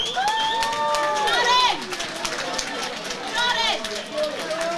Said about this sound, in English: A huge round of applause for both Rudy and Kyle, ladies and gentlemen.